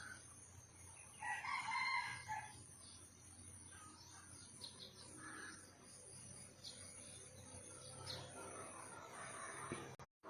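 Faint, distant roosters crow at dawn, one clear crow early and others scattered later, over a constant layer of chirping crickets and insects.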